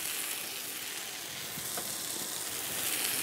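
Cubes of potimarron squash are added to a Thai shrimp curry in a wok and give a steady, close, bright hiss of sizzling, with a few small clicks toward the end and no voices.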